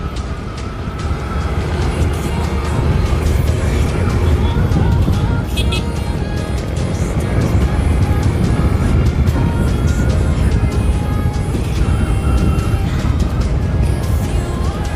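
A motorcycle ridden standing up gives a steady, loud blend of engine drone and rushing wind roar for the whole stretch, with possible faint voice content underneath.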